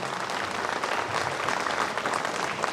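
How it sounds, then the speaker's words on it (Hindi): Audience applause for a poet at an outdoor poetry gathering honoring martyrs, a dense, continuous patter of many hands clapping at moderate volume throughout. "मेरे भी सम्मान में अगर लगे तो तालियां बजाइए।"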